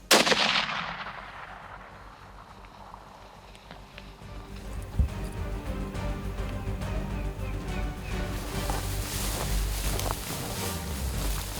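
A rifle cracks loudly once at an antelope during a South African hunt. The shot echoes away into quiet outdoor ambience, then a further thump and rustling movement follow.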